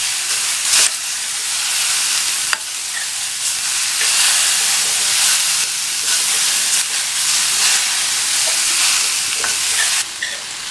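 Grated radish stirred into a coconut mixture in a hot pan, sizzling and hissing steadily and loudly, with a spoon scraping through at intervals.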